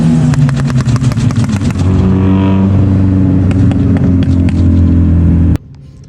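Loud car engines at a cruise night rev hard with a rapid popping rattle, rising into sustained roaring, then cut off abruptly near the end, leaving a low hum.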